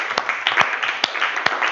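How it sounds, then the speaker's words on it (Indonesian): Class applauding at the end of a lesson, a soft, continuous patter of many hands with a few louder individual claps poking through, no talk. "Kita beri tepuk tangan untuk kita semua."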